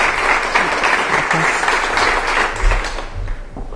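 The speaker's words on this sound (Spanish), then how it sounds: "os pido un aplauso para ella" An audience applauds a scientist as she is introduced at a science talk, loud, close, continuous clapping that stays strong throughout and tapers slightly at the end.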